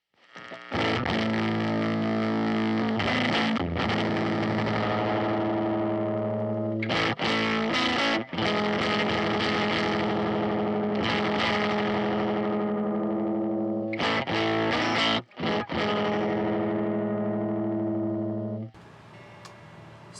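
An electric guitar plays heavily distorted, sustained chords through a Dirty Haggard Audio Angry Alpaca overdrive pedal, loud and gritty, with a few brief pauses between strums.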